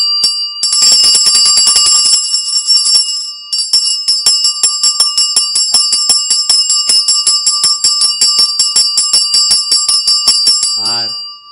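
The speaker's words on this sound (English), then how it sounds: "where it is a church bell" During a traditional yoga class, a bell is struck rapidly and continuously in a steady ringing pattern, like a church bell. The bright metallic tone sustains loudly for about eleven seconds before a brief pause and stop.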